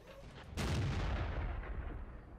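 A tank cannon firing in the World of Tanks video game, with a single heavy boom that rolls out into a long, loud rumbling decay.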